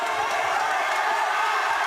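An arena crowd at a Cage Titans bantamweight title cage fight roars steadily in support of hometown fighter Andrew Valdina, a dense, continuous wash of cheering with no pauses.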